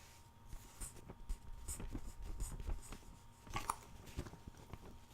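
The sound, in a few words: rustling thin magazine paper of a Parade issue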